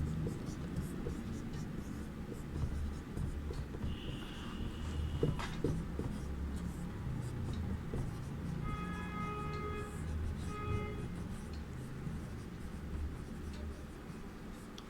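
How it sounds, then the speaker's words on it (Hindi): Pen scratching steadily on paper as an answer is written out by hand in a Hindi class, a continuous close, soft scribbling with faint background noise and quiet voices. "यहाँ पर हम लोग इसका उत्तर लिखेंगे"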